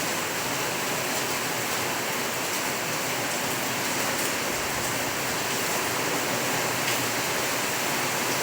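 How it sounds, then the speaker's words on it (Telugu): Heavy rain pouring down in Mahbubnagar, a steady, loud, unbroken hiss of rainfall that stays constant with no talk. "హెవీగా ఉందండి రెయిన్."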